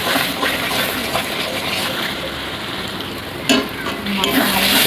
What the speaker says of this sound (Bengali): মশলাটা ভালো করে একটু কষিয়ে নেবো যাতে তেলটা ছেড়ে যায়।